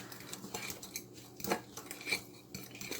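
A utensil stirs a butter and lemon juice sauce in a pan, producing a few soft scraping and clinking strokes at an irregular rhythm, fairly quiet, with no voices.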